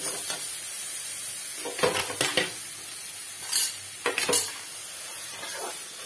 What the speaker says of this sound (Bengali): এবার মশলাটা ভালো করে কষিয়ে নেবো যাতে কাঁচা গন্ধ না থাকে।